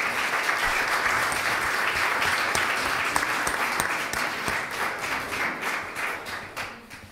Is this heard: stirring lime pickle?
no